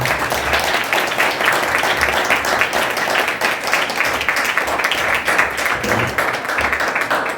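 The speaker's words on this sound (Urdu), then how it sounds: "اس کلام کے لیے زوردار تالیاں دیں" An Urdu-speaking church congregation claps loudly during a Friday sermon, a thick, sustained burst of applause with no voices over it.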